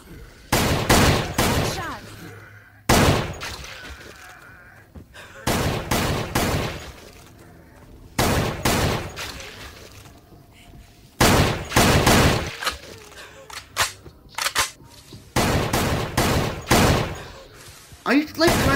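Rapid bursts of gunfire in a zombie shooter video game, loud and close, coming in several clusters separated by brief pauses, with someone talking between the volleys.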